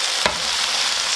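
Onions and peppers sizzle loudly in a pan just after a little water is added, a steady dense hiss filling the short moment with one brief stir-like scrape near the start.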